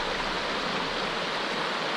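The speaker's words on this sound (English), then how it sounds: "Just a stream basically on the side of the road." Oak Creek runs as a small stream beside a roadside pull-off in Arizona, its water rushing in a steady, broadband hiss that stays constant and fairly close, with no voices over it.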